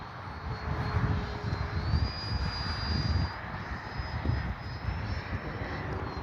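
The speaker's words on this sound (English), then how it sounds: "Took off in the grass." E-flite Habu SS 6S electric ducted-fan RC jet taking off from a grass field, giving a steady high whine and rushing roar, fairly close and continuous with no talk.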